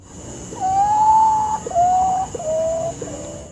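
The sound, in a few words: potoo bird creepy call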